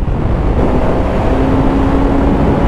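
A 2019 Suzuki GSX-S 750 motorcycle engine pulling hard in sixth gear, heard as a steady, loud, unbroken drone mixed with rushing wind at speed, with no talking.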